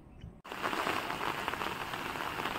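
Heavy rain falls on a path near a small village waterfall as a steady, fairly faint hiss of patter. It starts abruptly after a short quieter moment and carries on unbroken, with no voices.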